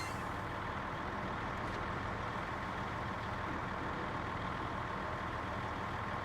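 A heavy truck in SnowRunner grinds uphill, its engine holding a loud, steady, rumbling drone with no break and no voices.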